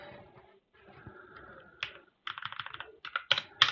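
Keys clatter on a computer keyboard as a docker command is typed, first in a few scattered soft taps, then in quick loud bursts of keystrokes with short pauses between them.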